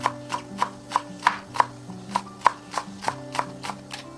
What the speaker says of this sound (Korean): 대파는 반으로 가르고 가늘게 채 썰어줍니다